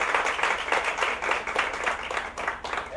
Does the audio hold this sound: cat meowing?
no